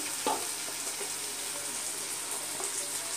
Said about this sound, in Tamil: கொஞ்சம் கைவிடாமல் கொஞ்சம் கிண்டி விட்டுட்டே இருக்கணும்